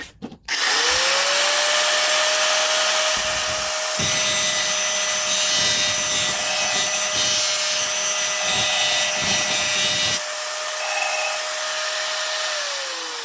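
A drill bit sharpener grinds a drill bit with a loud, steady high whine that holds for about ten seconds, broken by rougher grinding bursts, then winds down. It is close, with no talking.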